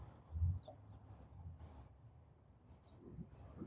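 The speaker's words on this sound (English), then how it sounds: "A few birds." Outdoors, a few birds give faint, scattered high chirps over a quiet background, with a soft low thump near the start.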